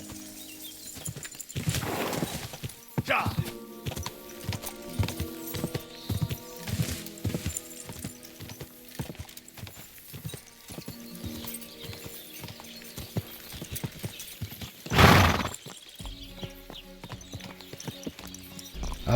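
Horse hooves clip-clop in a steady rhythm while riding in the video game Kingdom Come: Deliverance II, close and continuous alongside game music, with a brief shout and a louder burst near the end.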